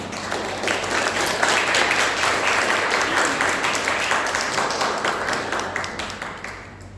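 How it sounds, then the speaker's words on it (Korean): Congregation at a Sunday church service claps to welcome returning visitors, a sustained, even round of applause from many people that carries on for several seconds and tapers slightly near the end. "우리 박수로 환영하겠습니다"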